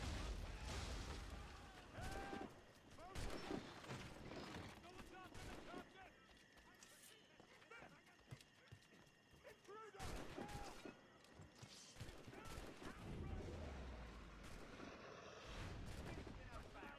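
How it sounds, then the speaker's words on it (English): Gunfire from the video game Assassin's Creed IV Black Flag, rapid volleys of shots and booms crackling continuously with shouting voices mixed underneath. "Careful with the gunfire!"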